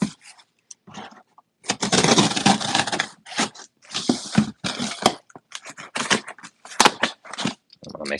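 Scissors or a blade cutting into the plastic packaging of a new Halfday tote bag on a dining room table, with close crinkling, tearing and scraping in irregular bursts separated by short silences.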